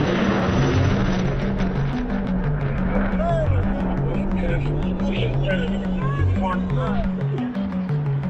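A jet makes a high-speed air show pass at 200 feet, close to Mach 1. A loud, continuous roar fills the whole stretch, with a tonal music-like bed underneath.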